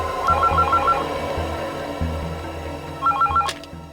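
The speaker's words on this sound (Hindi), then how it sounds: "ये किसका फोन आ गया?" Two bursts of an electronic telephone ring, a rapid warbling trill repeated several times and then again after a pause, loud and close over low room noise with no talk.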